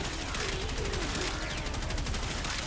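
The Reconifex weapon in Warframe fires explosive shots in a loud, dense, unbroken barrage of bursts and blasts that continues throughout.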